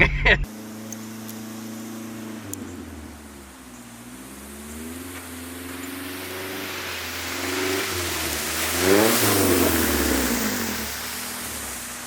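A bagged Honda S2000 driving around the block in snow, its engine humming steadily with rising and falling revs as it turns, heard from inside or close by for a continuous stretch.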